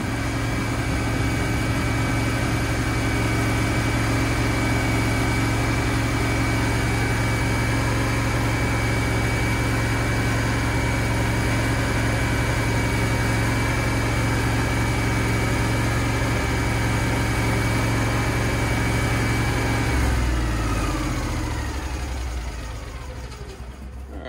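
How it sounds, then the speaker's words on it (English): A Kohler standby generator runs inside a Zombie Box enclosure, a loud, steady engine drone with a strong low hum that holds for about twenty seconds and then winds down as it shuts off. "All right, so at this point, I'm going to go ahead and shut the generator down."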